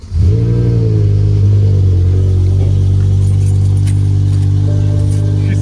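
A 2006 BMW M5 E60 engine fires up and settles into a loud, steady, deep idle close by, with faint light metallic clinks above the rumble.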